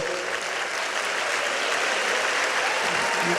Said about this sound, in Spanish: Aplaudiros a vosotros